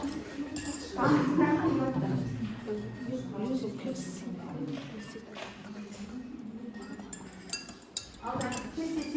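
A spoon clinks and scrapes against a glass as a drink is stirred in a classroom, with light repeated tinkling heard under ongoing talk from several people.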